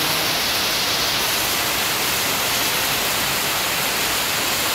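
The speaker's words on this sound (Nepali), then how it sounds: "हेर्न एकछिनमै कत्रो भल बग्दिसक्यो क्या।" Floodwater surging after a heavy downpour, a dense, steady roar of rushing water that stays loud and unbroken throughout.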